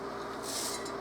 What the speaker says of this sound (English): So this is as simple as dumping it all in a bowl and mixing